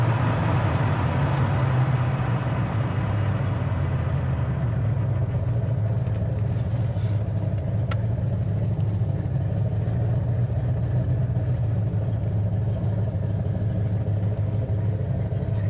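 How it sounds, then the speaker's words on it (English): A 1972 GMC Sprint engine idles steadily at about 800-900 RPM, a low even rumble with a slight rhythmic lope, dropping a little after the first few seconds, with faint clicks. "Has a good idle. We're idling about 800-900 RPM."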